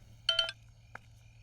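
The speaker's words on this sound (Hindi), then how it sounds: "फोन आ रहा है, मैं अभी आता हूँ।" A telephone rings for an incoming call, giving a short electronic two-burst ring followed by a fainter chirp over a low steady hum.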